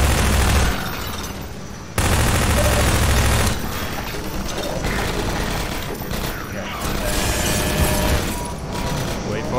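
SMG bursts from Half-Life 2: Episode 1 chatter in dense rapid volleys with a few heavier booms, loud and close, with a person talking over the firing.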